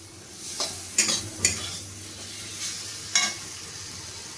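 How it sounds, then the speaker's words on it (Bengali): Onion, green chili and tomato cooking with spices in a pan, a soft continuous sizzle broken by a few sharp scraping stirs of a spoon against the pan, close by and with no voices. "এবার আমি সমস্ত উপকরণগুলো এই পেঁয়াজ, কাঁচা লঙ্কা আর টমেটোর সঙ্গে আমি একটু কষিয়ে নেব বা ভেজে নেব"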